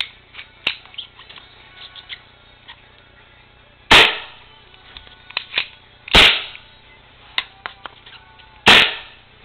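Airsoft gun fired through a homemade silencer: three sharp, loud shots a couple of seconds apart, each with a short decay, plus softer clicks and handling noises between them.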